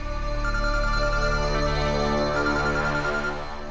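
A telephone ringtone plays steadily and loudly in a domestic drama scene, its bright, layered electronic melody filling the whole moment without any talking.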